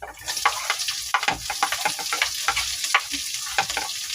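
Onion hits browned garlic in a hot pan with a loud, steady sizzle and frying crackle, with quick stirring scrapes throughout while cooking chicken feet; no talking.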